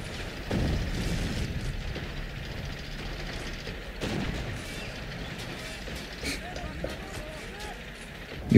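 Mortar fire and explosions in a multiplayer war strategy video game, several deep booms with rumbling impacts, one heavy blast near the start and others mid-clip, under continuous commentary from players talking.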